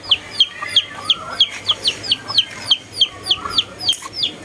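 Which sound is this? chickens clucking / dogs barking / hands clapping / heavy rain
chickens clucking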